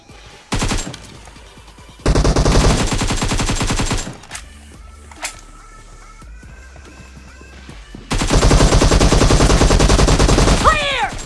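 Automatic rifle fire from an AKM or M762 during a PUBG Mobile weapon test: loud, rapid bursts in three long strings separated by quieter gaps.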